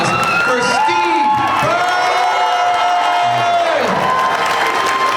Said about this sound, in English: Everybody, please give a huge round of applause for Steve